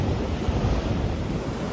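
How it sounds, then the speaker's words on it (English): Indian Ocean waves wash onto a beach, a continuous roaring surf heard close and fairly loud, with strong wind buffeting the microphone throughout. "This is the Indian Ocean."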